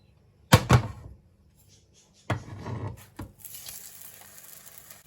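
A spinach and oats crepe is flipped in a frying pan, giving a couple of soft thumps and scrapes followed by a steady, quiet sizzle.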